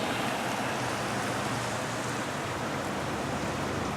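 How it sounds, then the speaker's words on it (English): Rain falls steadily with an even, continuous hiss and patter, broad and close, holding at a constant level with no voices. "I've always kind of been one to like the rain. So I hope you're enjoying the rain."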